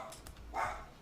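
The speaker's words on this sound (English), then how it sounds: "That's my dog." A pet dog at home gives a couple of short, muffled barks or yips somewhat off in the background, brief and fairly faint, with no talking.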